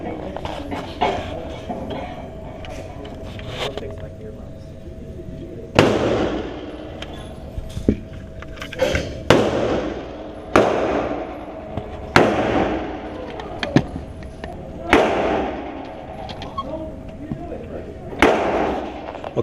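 Single shots from a budget 9mm pistol fired at a target at an outdoor range, about ten sharp, loud reports spaced a second or two apart, with people talking between shots.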